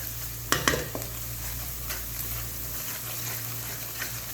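Spices with ginger and garlic stirred and fried in a pan for a restaurant-style mixed vegetable sabzi, a steady soft sizzle with a few sharp scraping clatters near the start and a low hum underneath.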